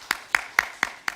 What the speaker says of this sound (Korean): 모든 영광 하나님께 큰 박수를 올려드리겠습니다